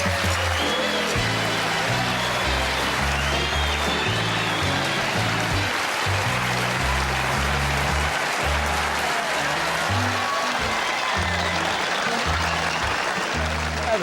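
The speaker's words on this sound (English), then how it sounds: "Please clap." Studio audience applauding the arrival of a guest, the captain of the St. Louis Unions, on a talk show; steady, dense clapping runs throughout over a low rhythmic music bed.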